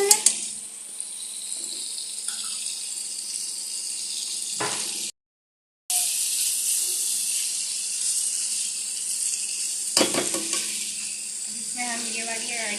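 Garlic paste frying in a pan for chow mein, a loud steady hiss of hot oil with brief stirring scrapes, broken by a short silent gap midway, no talking.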